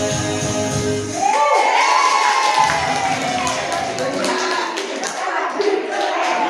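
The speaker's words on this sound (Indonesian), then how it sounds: "Terima kasih tepuk tangan untuk kita semuanya" Audience at a school good-practice presentation gives applause and cheering, a broad steady wash of clapping and voices with shouts rising over it, some cheering lifting into a brief swelling cry.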